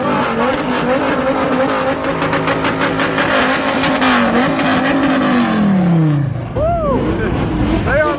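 Bugatti sports cars pull out among a large gathering of over 200 sports cars, engines revving loudly and rising in pitch with a strong roar, close and continuous over crowd noise.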